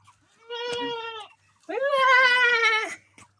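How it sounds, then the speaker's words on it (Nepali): Two close, loud goat bleats, a short one followed by a longer wavering cry after a brief pause, in a quiet setting. "बाख्रा पनि यहाँ हाँस्छ क्या मलाई हेरेर"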